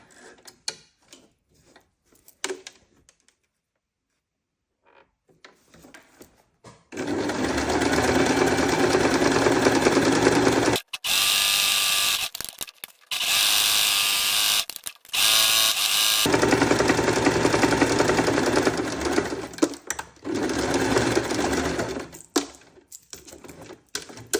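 A sewing machine set to zigzag runs a stitch around the edge of hessian and felt fabric. Long, loud stretches of fast rhythmic whirring are broken by a few short stops, with quieter handling sounds at the start and end.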